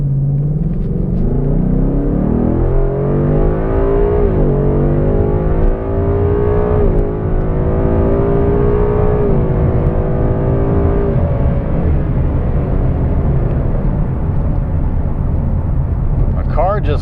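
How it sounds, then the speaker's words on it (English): A 460 horsepower Ford Mustang accelerates hard on an open road, its engine rumbling loudly and rising steadily in pitch through the gears from inside the cabin, with someone talking over it. "My car just goes and it just keeps pulling. 460 horsepower."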